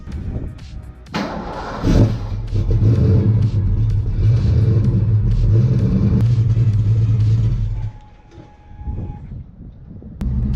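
Cold start of a Fox Body Mustang with a manual clutch: the engine cranks, catches and runs with a loud, steady low rumble, then cuts out abruptly as it stalls.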